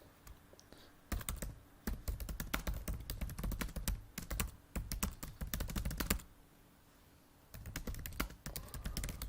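Bursts of rapid keystrokes on a computer keyboard entering comments into a resident behaviour-monitoring setting, close and clear, with brief pauses between runs of typing.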